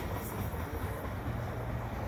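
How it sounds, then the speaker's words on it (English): The tail end of an eastbound CN mixed freight train rolls past at Beaconsfield in winter, making a steady, loud rumble of rail cars with no horn or voices. "That's the end of the train right there."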